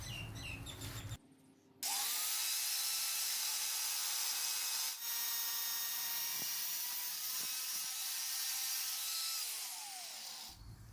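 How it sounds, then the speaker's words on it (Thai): A power tool cuts the head off a size 14 bolt: after a short pause, a loud, sustained, harsh high-pitched grinding whine runs for about nine seconds before cutting off abruptly. "เราจะมาตัด ตัดหัวตรงนี้ทิ้งก่อนนะครับ"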